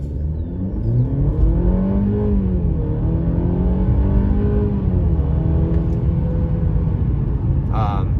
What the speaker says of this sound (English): go ahead and just do a quick acceleration